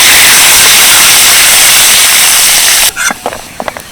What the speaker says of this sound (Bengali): কয়েক কোয়ার রসুন নিয়েছি রসুনগুলোকে তেলের মধ্যে ভেজে নেব